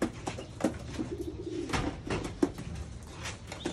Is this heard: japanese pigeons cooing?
yes